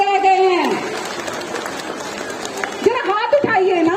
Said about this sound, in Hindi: जो जहां बैठा है वहां से हाथ उठाकर ताली बजाइए